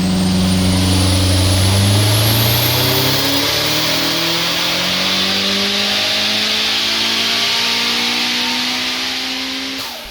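A turbocharged Audi A3 with a G25 turbo running at 2 bar of boost on a dyno gives a loud, sustained engine rev that climbs steadily in pitch for the whole stretch, with no talking.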